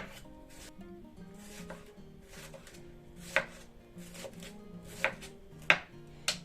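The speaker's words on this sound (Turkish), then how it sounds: "Salatalıklarımı da ince ince kıyıyorum." A knife finely chopping cucumbers for cacık on a board: irregular crisp close strikes, several sharper louder ones in the second half, over a steady soft tonal background.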